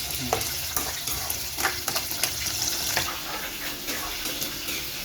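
Onion fries in a pan while laing is being cooked, a steady hissing sizzle with intermittent clinks and scrapes of stirring close by.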